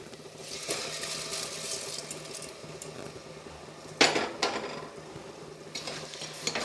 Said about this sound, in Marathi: तांदूळ टाकून घेऊ.